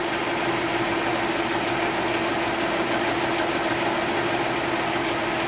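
A 1950 Buick Roadmaster convertible engine idles low, making a steady, even rumble with a constant hum that does not change throughout, close and fairly loud, with no talking.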